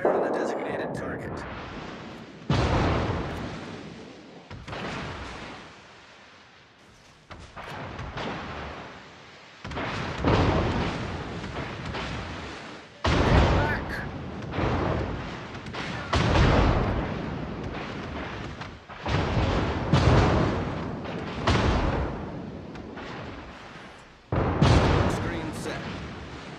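Naval artillery in a destroyer video game booms repeatedly, each heavy blast rolling into a long rumbling decay, one after another, loud and continuous, with faint voice lines mixed in.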